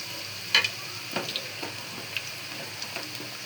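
Onion frying in oil with cardamom and cloves, a soft, even sizzle with a few light stirring clicks near the start, close but fairly quiet and with no talk.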